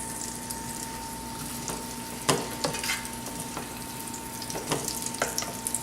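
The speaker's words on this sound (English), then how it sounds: "1 tablespoon butter, then to that we're just going to add the peaches cut side down." Peach halves sizzle cut side down in a tablespoon of melted butter in a pan, a steady close frying hiss with a few sharper crackles and spatters scattered through, no voices.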